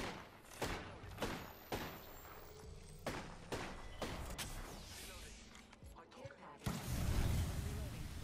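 Gunfire in Apex Legends: a series of sharp shots at irregular intervals, some close and punchy, a few in quick succession, ending in a heavier blast, with a voice speaking over parts of it.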